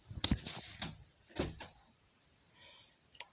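A bedroom door pushed shut in a home, with a few close, soft thuds and a latch click followed by quiet room tone and a faint final knock.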